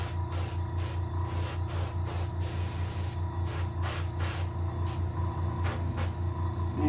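Paint sprayed onto a green sunfish taxidermy mount, a series of short airbrush hisses in bursts over a steady low compressor hum, close and even, with no speech.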